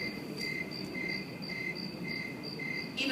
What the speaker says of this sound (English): Even the crickets.